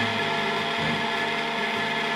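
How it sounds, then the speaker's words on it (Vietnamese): An electric smoothie blender runs on power from a UPS inverter, giving a steady, loud, dense motor whir that holds constant throughout with no talk over it. "Hiện nay máy xay sinh tố đã chạy."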